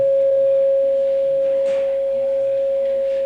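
A small gong rings on in a long, steady sustained tone that hangs evenly throughout, with faint background room noise beneath the reverberation.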